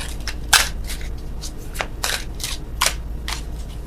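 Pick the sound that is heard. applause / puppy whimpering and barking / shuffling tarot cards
shuffling tarot cards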